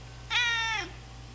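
A cat gives a single clear meow, close and moderately loud, rising then falling off in about half a second against a quiet indoor hum.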